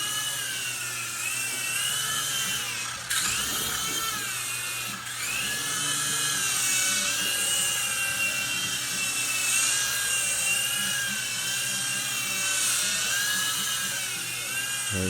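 A small GPToys Durant X-Copter toy RC helicopter flying on high rate whines steadily with a high, buzzing rotor pitch that wavers slightly as it hovers and flies nearby indoors.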